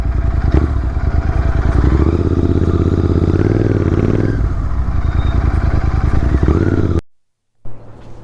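A Royal Enfield GT650 motorcycle rides along with a loud, continuous engine drone and road rumble close by, briefly cutting to silence before picking up again.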